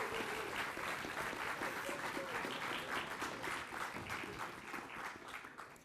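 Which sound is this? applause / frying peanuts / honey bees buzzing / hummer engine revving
applause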